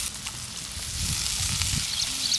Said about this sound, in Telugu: వాటర్ లేకుండా మొత్తం ఇట్లా తీసి ఈ ఆయిల్లో వేసుకుందాం